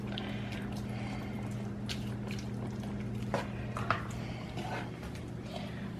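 White pork chili with a cup of water is stirred in an iron skillet, giving soft squishing, scraping and liquid sloshes over a steady low hum, with occasional sharper clicks.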